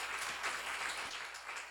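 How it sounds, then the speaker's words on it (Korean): Audience at a church seminar applauding, a faint steady wash of clapping with no talk over it. "사실 박수 한번 쳐드려요"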